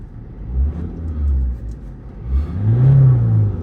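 An Alfa Romeo Mito diesel engine, in sports mode with the turbo building boost, revs up twice in close, loud rumbling surges that rise and fall, with a faint whir between them.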